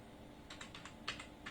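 Quiet typing on a computer keyboard, a handful of light, quick key clicks in an irregular burst over a faint background hiss, with no talk.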